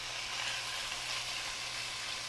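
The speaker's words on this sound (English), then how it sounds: "Oh yeah, that sizzles good." Chicken pieces sizzling in a hot oiled pan on the stove, a steady close frying hiss that holds without break and without talk.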